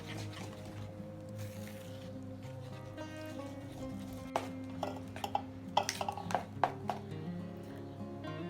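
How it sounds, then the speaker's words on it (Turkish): Lemon cake batter with a pinch of turmeric being stirred in a bowl, with a run of quick metallic clinks and scrapes against the bowl under steady background music. "Ve hepsini güzelce karıştıralım."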